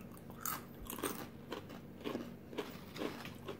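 Kettle-cooked potato chips crunch between the teeth, a series of close, sharp bites and chews in an irregular rhythm against a quiet background.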